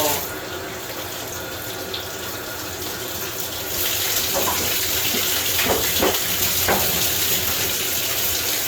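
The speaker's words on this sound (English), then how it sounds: "rinse our tub out here." Water runs steadily into a newly installed bathtub during a rinse, a constant hissing splash that grows louder partway through, with a few faint knocks in the background.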